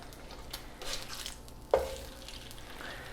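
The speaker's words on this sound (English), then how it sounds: "I'm gonna flip the egg over" An egg frying in a pan, with a quiet steady sizzle and a single soft clack as it is flipped partway through, then the sizzle continuing. No one speaks.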